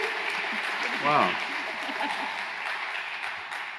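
An indoor crowd at a board meeting claps warmly for a short stretch, a dense steady patter of applause under which one person speaks briefly.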